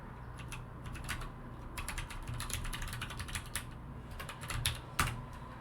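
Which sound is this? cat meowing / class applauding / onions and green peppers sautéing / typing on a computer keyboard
typing on a computer keyboard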